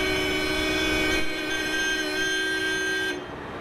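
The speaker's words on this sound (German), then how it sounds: "Ob die Hupe jemand hört hier am Flughafen?" An aircraft tow tractor at Frankfurt Airport sounds a sustained horn for about three seconds, a steady multi-tone blare over low engine rumble, then cuts off abruptly.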